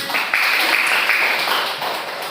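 Primary school pupils in a classroom applaud together, a dense burst of clapping that swells and then tapers off across a couple of seconds, close and lively.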